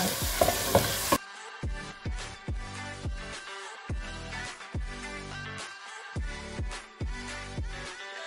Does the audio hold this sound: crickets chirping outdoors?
no